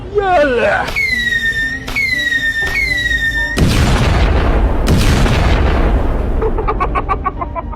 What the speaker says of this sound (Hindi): ये हम लोग के ऊपर ही मिसाइल छोड़ रहा है